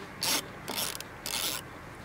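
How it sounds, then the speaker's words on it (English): An 8mm socket on a ratchet turns a small nut holding the headlight wiper on a Mercedes W124 E300D, giving three short bursts of close, buzzing clicks with brief pauses between them. "I will start with using socket, 8mm socket, to undo this little nut"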